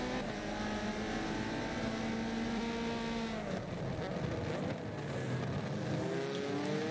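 A BMW touring car engine at Silverstone in a racing game, a steady droning whine that rises and shifts in pitch as it passes near, loud and continuous with other cars audible around it.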